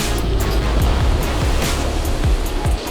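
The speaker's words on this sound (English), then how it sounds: "It was nice to feel the raw power of the waves." Ocean waves break and surge during cold-water surfing in Norway, a loud continuous wash of surf with repeated low thumps, heard up close without speech.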